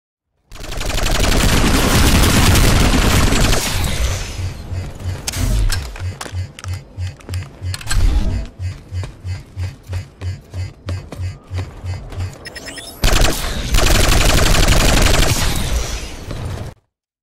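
Rapid automatic fire from the SVA-88 weapon in Planetside 2, loud and close, with long sustained bursts, then a run of evenly spaced individual shots, then another long burst.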